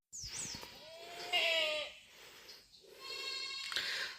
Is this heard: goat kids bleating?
yes